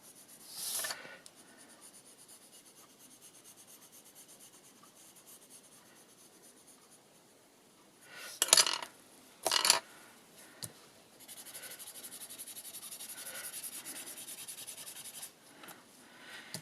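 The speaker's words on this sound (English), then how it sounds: "just go a little bit more with the side of the pencil" Graphite pencil held on its side shading a paper journal page background: soft, steady rubbing scratch across most of the clip, with a couple of sharper louder strokes or taps near the middle, no talking.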